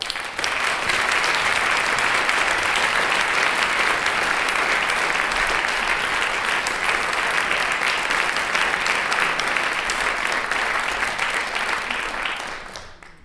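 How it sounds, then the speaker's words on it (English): An audience at the Scott-Moncrieff Prize ceremony for translation from French applauds translator Frank Wynne with loud, dense, sustained clapping that carries on evenly for more than twelve seconds before fading out. "So we can applaud Frank Wynne, who is here"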